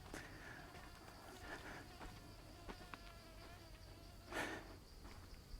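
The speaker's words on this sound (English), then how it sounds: "Lovely to hear the insects in the background there." Insects buzz and drone steadily in a forest park in northern Thailand, a faint continuous hum with occasional louder passes, distant and alone with no speech.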